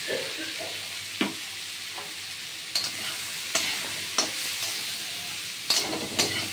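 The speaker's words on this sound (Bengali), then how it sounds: "একটু নেড়ে চেড়ে নিলাম। এইবার আমি দেখুন আন্দাজ মতো লবণ আর হলুদ দিয়ে দিলাম।" Bitter gourd and pumpkin frying in a pan with salt and turmeric, a steady close sizzle with several sharp scrapes and knocks of the stirring spoon spaced through it.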